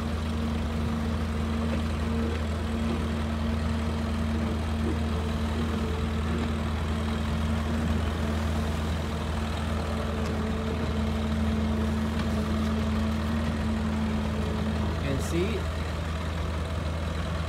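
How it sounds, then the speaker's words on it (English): A single-motor fishing boat engine idles at Mui Ne, Vietnam, giving a steady low hum with a constant tonal drone that holds evenly throughout, with faint background activity. "Just a single motor"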